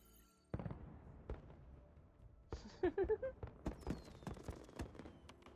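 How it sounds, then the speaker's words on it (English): Fireworks in the video game Horizon Forbidden West pop and crackle in a rapid irregular series of bangs and bursts, some close together, heard fairly faintly at a distance with no talk. "Fireworks."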